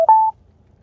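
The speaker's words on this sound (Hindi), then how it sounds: "अब एक फोन आ रहा है" A short electronic call-in tone on a live devotional phone-in broadcast: a brief click, then a steady, loud single-pitched beep lasting about a quarter second before fading to quiet, with no talk over it.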